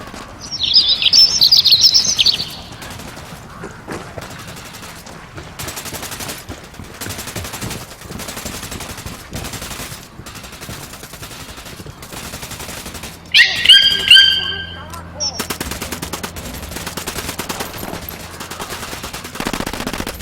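Gunfire in the video game Ghost Recon Wildlands: rapid, clipped bursts of shots repeat across the scene, mixed with bird chirps and brief game sound effects.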